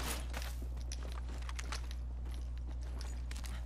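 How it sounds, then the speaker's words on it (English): Footsteps in the Apex Legends video game: a run of light, rapid steps over a steady low hum, fairly close and even in level throughout. "I hear footsteps."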